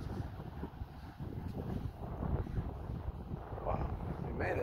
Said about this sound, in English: It's crazy out here. It's nice and windy.